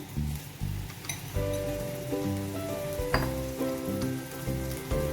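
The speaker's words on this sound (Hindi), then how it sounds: "यहाँ मैंने पैन में 2 टेबल स्पून ऑयल ले लिया है। इसमें अब हम अपना मैरिनेटेड चिकन डालेंगे" Marinated chicken hitting two tablespoons of hot oil in a pan, a steady crackling sizzle with scattered clinks and pops, close and fairly loud throughout with no talking.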